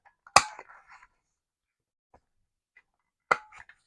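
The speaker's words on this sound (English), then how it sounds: "And then I need to round both of these corners." A corner rounder punch snaps down on paper corners while a composition notebook is altered junk-journal style, giving two sharp, close clicks about three seconds apart with small rustles in between in a quiet room.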